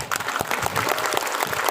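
A crowd at a village head inauguration claps briefly, with loud distinct hand claps punctuating a short burst of applause.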